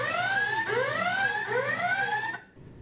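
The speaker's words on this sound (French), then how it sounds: "pourquoi as-tu déclenché l'alarme des secrets?" Loud electronic alarm in the Secret Story reality TV house, rising siren-like sweeps repeating about every second before cutting off abruptly, with no voices.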